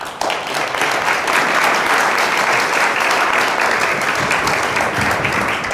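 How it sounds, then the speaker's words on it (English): An audience at a symposium applauds steadily, a dense, even roar of clapping that holds at full strength throughout. "Let's give a round of applause for our..."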